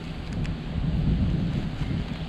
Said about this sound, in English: It looks like it's going to be a pop-up storm